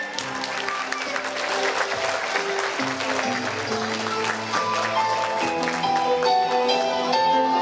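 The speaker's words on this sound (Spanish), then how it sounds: "¡Fuerte el aplauso para ella!" Applause for a girl turning sixteen at a sweet sixteen and quinceañera party, a steady wash of clapping over loud background music that continues throughout, with no speech on top.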